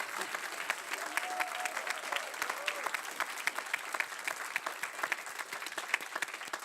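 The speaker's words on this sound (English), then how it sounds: "round of applause while they're all united" Warm applause from an audience at a FameLab International science communication semi-final honoring the competitors, a dense bed of hand claps with a few louder individual claps and faint voices early on.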